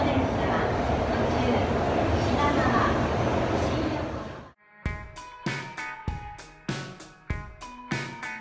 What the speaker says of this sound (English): This is ours. This is our train.